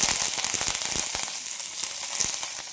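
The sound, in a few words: green chillies and curry leaves sizzling in hot oil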